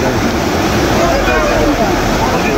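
Floodwater overflowing from a school and rushing along a street in Manado, a loud steady broadband roar with a continuous turbulent wash throughout.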